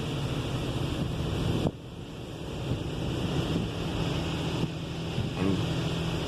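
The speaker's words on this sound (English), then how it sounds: "this is our high pressure rinse. Blowing off the soap." A Washworld Razor automatic car wash at an Ontario auto spa blasts its high-pressure rinse over a car, a loud, roaring hiss of spray that shifts in strength as the jets sweep past.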